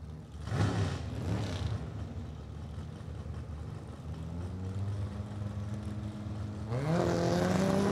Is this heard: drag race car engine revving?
yes